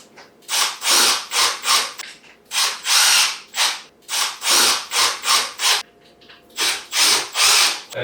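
A ratchet tightens bolts while a wooden cat wheel is assembled: a close, loud run of short rasping strokes comes in quick repeated bursts with brief pauses between them, and no one speaks.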